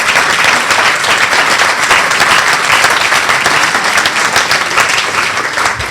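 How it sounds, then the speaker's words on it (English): Loud, sustained applause from a large crowd, dense and continuous clapping filling the room for several seconds. "Please give her a round of applause."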